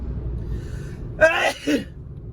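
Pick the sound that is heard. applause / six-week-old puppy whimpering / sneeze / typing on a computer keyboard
sneeze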